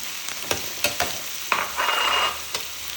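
Carrots tipped into a hot pan for a vegan curry, giving a burst of sizzling frying with sharp scraping stir strokes and clicks, fairly close and with no voices.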